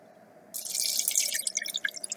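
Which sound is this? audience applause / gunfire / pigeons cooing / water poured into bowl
water poured into bowl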